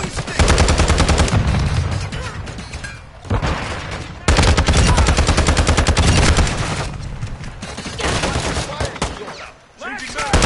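Sustained bursts of automatic gunfire from Modern Warfare 2 multiplayer, loud and close, with dense rapid fire broken by brief pauses, a short lull and heavy volleys resuming.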